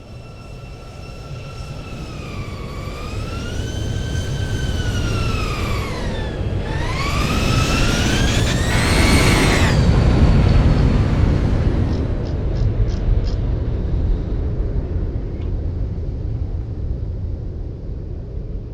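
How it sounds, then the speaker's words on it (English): A Boeing 737-800 arrives in the X-Plane 11 flight simulator game. A loud, steady jet engine roar carries whining tones that bend up and down, then swell into a broad rush that slowly settles. "the Boeing 738 of Cyprus Turkish Airline is arriving"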